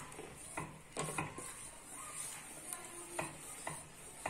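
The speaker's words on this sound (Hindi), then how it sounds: "और डालेंगे लहसुन अदरक का पेस्ट। अच्छे से मिक्स करेंगे।" Garlic ginger paste is stirred in a pan with onion paste, a spoon scraping and clinking against the metal in several faint, irregular taps over a low sizzle, with no voices.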